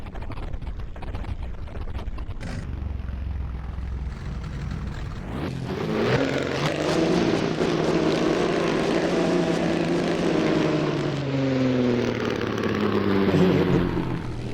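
A 1951 post-war race car in Assetto Corsa at the Pescara circuit: a low idle rumble gives way, after a brief clunk, to a loud, rising engine roar with shifting harmonic drones as the car accelerates away.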